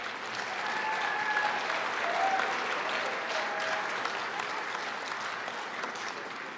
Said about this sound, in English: let's have a round of applause for the graduates from January 2022